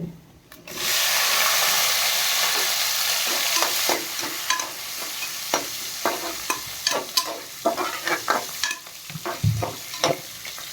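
Mustard seeds, small onions and dried red chillies frying in oil for Kongu-style rice and dal: a loud steady sizzle, then repeated clicks and scrapes of a spoon stirring the pan, close up with no talking.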